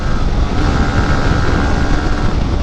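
A Royal Enfield Hunter motorcycle races on the street, its engine giving a steady, loud, close roar that runs unbroken throughout.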